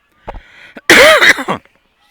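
At a baseball game, a single sharp, close cough bursts out after a soft breathy throat sound, followed by a brief trailing rasp.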